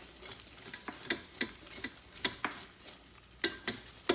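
Brussels sprouts tossed in a Ninja Foodi basket, a series of sharp rattling clicks and light clatters at irregular intervals, close and clear with a faint sizzle underneath.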